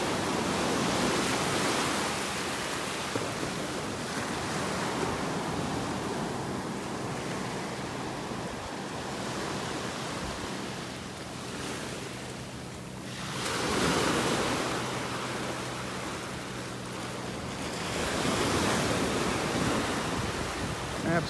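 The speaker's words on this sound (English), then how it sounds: "The sandbar's kind of out where these waves are starting to form. They're just hitting the sandbar. That's what creates these waves." Gulf of Mexico waves break over a sandbar off the beach at Delnor-Wiggins in North Naples, Florida, a continuous roar of surf that swells and eases, mixed with wind buffeting the microphone.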